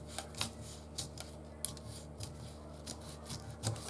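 Scissors cutting blouse fabric, a series of soft, close snipping strokes with light crisp clicks spaced unevenly over a few seconds, quiet and without talk.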